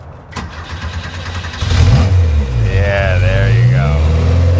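A four-cylinder Porsche engine starts up and revs loudly nearby, the rising throaty roar following a brief crank, with someone speaking briefly over it.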